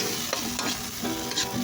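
Onions and tomatoes sizzle in a pan as they are stirred, a short, close burst of steady frying hiss with a few soft scrapes of the spoon.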